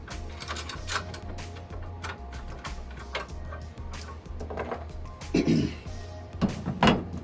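An Allen key works screws loose on a customized letterman jacket, making close, irregular metallic clicks and ratcheting scrapes over a low steady hum, with a few louder clunks near the end.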